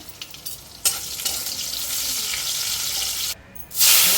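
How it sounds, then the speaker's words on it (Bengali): Onions frying in a pan with garlic and two dried red chillies, a bright steady sizzle with stirring scrapes, briefly dropping out then surging louder near the end; no talking. "পেঁয়াজটা ভেজে নেব"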